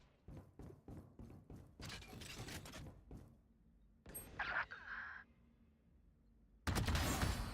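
Gunfire in the Valorant video game, a rapid string of sharp shots followed by bursts of noise and a later loud blast, heard at a watch party of a tournament match.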